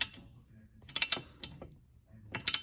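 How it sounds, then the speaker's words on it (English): Ratchet tightening the bolts of a DeeZee roof rack on a two-door Jeep Wrangler JL, with two bursts of sharp metallic clicking separated by quiet pauses, close and fairly faint. "Finger tight first, and then just finish them off with the ratchet"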